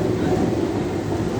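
A Mumbai local train pulls out of Mahim Junction with a steady, close rumble and a low drone, continuous and without any clear clatter or voice across the brief stretch.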